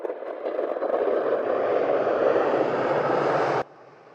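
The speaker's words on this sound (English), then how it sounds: "Don't want to miss the incoming Munich flight." An Airbus A319 airliner arriving at Edinburgh airport roars steadily with broad engine noise, swelling slightly as it passes, then cuts off abruptly near the end; no voices are heard.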